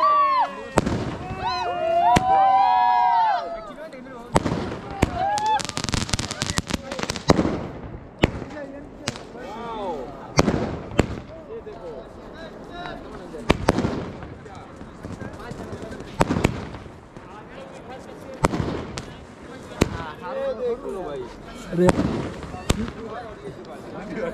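Diwali fireworks and firecrackers at Kedarnath Dham burst in repeated sharp bangs and crackling pops at an irregular pace, some near and loud, with people talking in between and whistling rockets early on.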